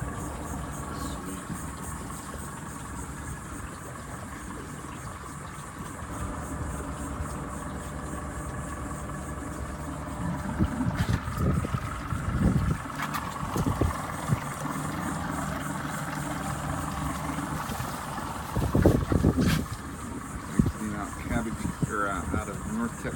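A 175-horsepower outboard engine idles on a boat near North Captiva, a steady low rumble running throughout, with people talking over it and louder bumps and wind noise partway through.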